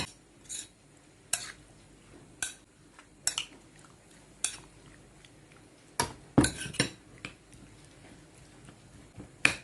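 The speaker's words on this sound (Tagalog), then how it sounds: "I'm going to mix it into the beef." Beef tenderloin being mixed with sauce for beef stroganoff: a utensil scrapes and clinks against a dish in spaced, irregular strokes, with a busier cluster of louder clatter near the end and no talking.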